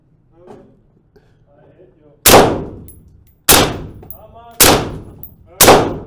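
Four loud, sharp gunshots from Swiss guns crack one after another at roughly one-second intervals on a shooting range, each ringing out briefly, with quiet talk before the first shot.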